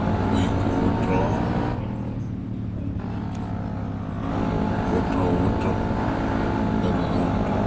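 Motorbike engine in the Indian GTA RTB Veeran video game, steady droning motor with revving surges and a brief dip around the middle, loud and continuous, with a person talking over it.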